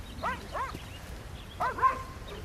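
A dog gives a few short yips and whimpering barks, two quick bursts then a pair more, moderately close over a low background rumble.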